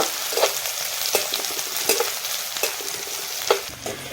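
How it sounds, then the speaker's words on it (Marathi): Chopped onion frying in hot oil in a home kitchen pan while greens are cooked, a steady loud sizzle with scraping stirs at regular intervals and no voices. "आता आपण तेलामध्ये कांदा सोडून गेला"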